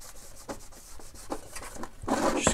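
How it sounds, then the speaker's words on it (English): A damp cloth rubs over a freshly painted part of a Star Wars BB-8 droid build, making repeated short scrubbing strokes close up that grow louder and harsher toward the end. "go over with a bit of a damp cloth"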